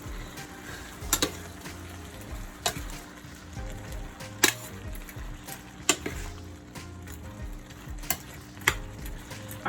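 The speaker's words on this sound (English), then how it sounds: "my pot has been sizzling for about 2-3 minutes" Jerk shrimp and grits cooking in a covered pot, a low sizzle with a busy background and repeated sharp clicks and knocks scattered across the stretch, no talking.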